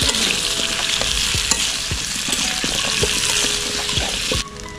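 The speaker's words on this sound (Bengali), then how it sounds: "আমাদের আলু ভাজা প্রায় কমপ্লিট হয়ে গেছে, মাংস আলু ভাজা" Potatoes and meat fry in a pan at an outdoor picnic cook-up, giving a steady loud sizzle broken by repeated close scraping stirs. The sizzle drops off abruptly near the end.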